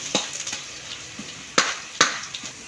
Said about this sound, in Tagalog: Unahin natin dito igisa yung bawang. Antayin lang natin matusta yung bawang.